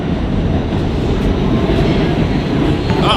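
A subway train rumbles steadily at an underground stop, a loud, continuous low roar of rail cars with faint clatter throughout, no voices.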